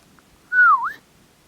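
A single short human whistle, a thin tone that holds steady then dips and rises again, alone against near silence.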